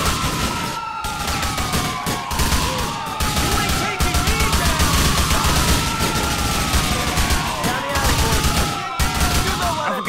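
Rapid gunfire in the video game GTA 4, dense bursts of shots rattling almost continuously with short gaps, loud and close, while a siren wails underneath throughout.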